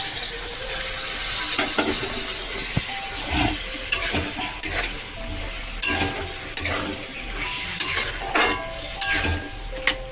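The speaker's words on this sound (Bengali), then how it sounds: "একটুখানি জল দিলে জল করে যে বাটির মধ্যে ছিল সেই বাটির জলটা আমি দিয়ে দিলাম" Water from a bowl splashes into a hot frying pan during home cooking, setting off a loud, steady sizzle and hiss, with a spoon scraping and stirring in repeated strokes throughout.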